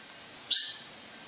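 A trapped starling gives a single short, harsh call, fairly close and alone against a quiet background.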